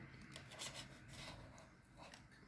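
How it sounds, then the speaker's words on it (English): Steady, close rasping of dry paint being scraped off a painting surface, a continuous rough scratching with slight rhythmic strokes and no talking. "Sorry if you guys don't like the sound of the scraping, but I'm trying to get this"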